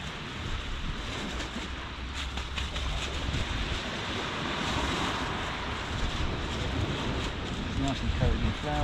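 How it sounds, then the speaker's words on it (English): A breeze blows across a UK beach, steady wind noise with a low rumble and faint surf behind it, while someone talks nearby. "Nice little breeze blowing."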